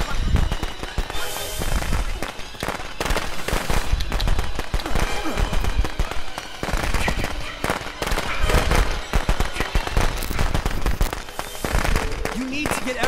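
Firecrackers in Friday the 13th: The Game crackle in loud, rapid volleys of sharp pops, bursting repeatedly and irregularly across the stretch, with talking heard beneath the bangs.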